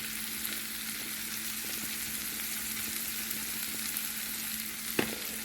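Chopped vegetables sweat in a pan as a steady, soft sizzle, with a single sharp clink near the end, and no talk.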